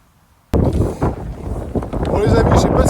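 Strong wind on a golf course at Chassieu buffets the microphone, with deep rumbling gusts bursting in abruptly after a brief near-silence and roaring loud and close throughout.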